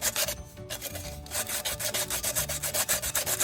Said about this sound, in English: I actually just use sandpaper from the Dollar Tree